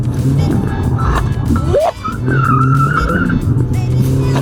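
A standard road car spins a donut on an autotest course, tires squealing and skidding over a loud, steady engine roar that briefly dips mid-spin before surging again, with a sustained high tire screech near the end.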